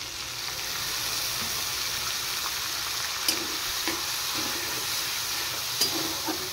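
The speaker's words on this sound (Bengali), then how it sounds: "এবার একটু জল দিয়ে দেব," Tomatoes and spices fry in a pan with a steady close sizzle after a little water is added, with occasional soft clinks of stirring over the hiss.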